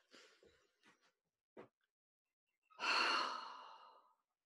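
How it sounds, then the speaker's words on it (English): A slow, deep breath out, heard as a long breathy exhale of about a second and a half, close and soft, preceded by a few faint shorter breaths. "Okay, deep breath."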